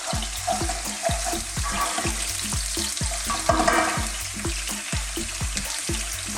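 Sliced red onions sizzling in hot sunflower oil in a pan, a steady close frying hiss broken by regular stirring scrapes at a brisk rhythm.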